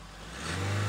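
A 4x4 vehicle's engine revs up, loud and close, its roar climbing over less than a second. The engine does not reach full rpm.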